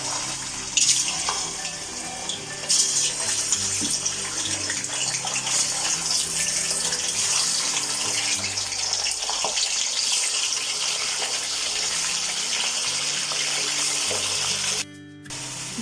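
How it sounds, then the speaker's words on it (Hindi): Chicken pieces fry in hot oil in a karahi for a Peshawari Shinwari chicken dish, a steady, loud, hissing sizzle that continues without letup, dips briefly near the end, then returns. "ऑयल गर्म हो गया, मैं इसके अंदर चिकन ऐड कर रही हूँ। चिकन को हम फ्राई करेंगे इस ऑयल में।"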